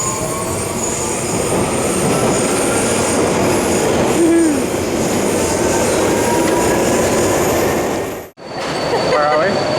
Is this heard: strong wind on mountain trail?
no